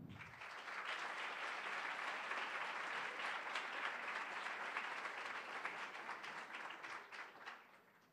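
A conference audience claps steadily to welcome a school's director-president onto the stage, a dense, even applause that swells quickly, holds, then fades toward the end, heard from within the hall with no talk.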